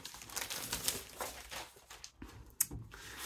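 Paper sheets from a crafting paper collection being handled and crinkled close by, a quiet continuous rustle with brief sharper crackles near the end.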